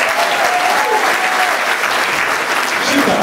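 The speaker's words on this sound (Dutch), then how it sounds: "Nogmaals een applaus voor de Nikos." A studio audience claps loudly and continuously for a performer, dense even applause across the whole stretch with a faint voice briefly under it.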